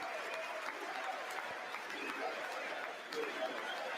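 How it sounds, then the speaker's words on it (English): Sustained applause from a large audience at the State of the Union, a dense, distant-sounding clapping that carries on unbroken, with faint crowd noise mixed in. "There's going to be 30 minutes of solid applause."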